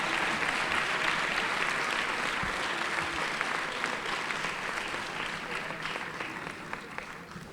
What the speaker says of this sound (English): One more round of applause as they leave